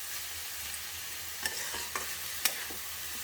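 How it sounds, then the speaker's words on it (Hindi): Dry masala stir-fried in a pan for a mixed saag bhaji, a steady sizzle under a few sharp scraping strokes from a spatula, close up and without talking. "मसाला को भूंज लेंगे, सूखी मसाला को।"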